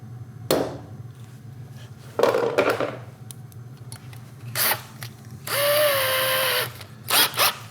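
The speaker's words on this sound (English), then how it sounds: "I will drill and tap one of the holes" A power drill whines in short bursts, drilling a hole on a PM-940 milling machine, with a longer steady run near the end, over a low mechanical hum.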